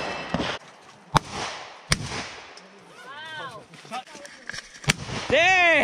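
Custom AR-15 rifle fired outdoors, with several sharp, loud shots spaced a second or so apart; excited voices talk and shout between the reports.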